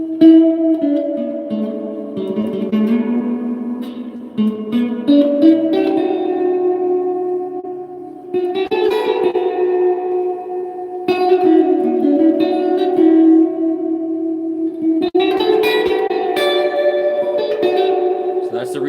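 An electric guitar rings through a real amplifier's spring reverb, sustained chords and single notes blooming into a washy, echoing tail, played in several phrases separated by brief pauses.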